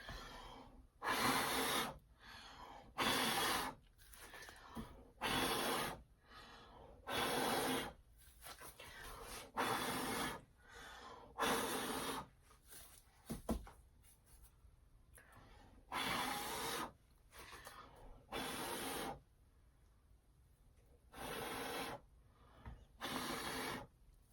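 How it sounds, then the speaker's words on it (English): Repeated bursts of breath blown onto wet navy and gold acrylic paint on canvas, about a dozen strong puffs in a steady rhythm, close to the mic, separated by quieter gaps. "let me see if I can just go ahead and blow on that and get the paint to travel up a little bit further on the canvas"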